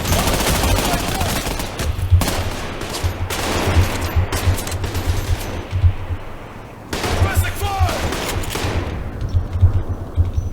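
Repeated heavy shotgun blasts and other gunfire from the Trepang2 first-person shooter, loud bursts spaced through the clip over a dense, busy game soundscape.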